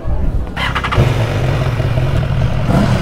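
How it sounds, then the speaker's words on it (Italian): A loud, steady rumble of many motorcycle engines idling and revving close by at a motorcycle rally at a racecourse, continuous throughout with a deep low drone. "guardate quante moto sono arrivate"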